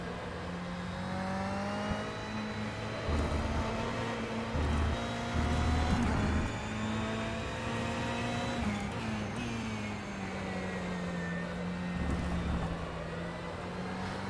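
A person's voice imitates a race car engine during an rFactor 2 sim race at Spa, a long droning hum that rises and bends in pitch, sitting over quiet game engine noise.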